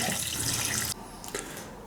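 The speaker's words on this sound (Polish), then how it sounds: "Teraz jeszcze około pół litra, 450 ml wody, żeby się fajnie zrobiło na parze nam" About half a litre of water runs from a tap into a pot, meant for steaming pork neck. The stream is close and gushing, then cuts off sharply, followed by a few faint drips and small clinks.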